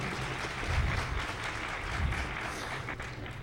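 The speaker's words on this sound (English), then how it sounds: "Round of applause." A conference audience at a hacking convention claps in a dense, steady round of applause that fills a large hall for a few seconds.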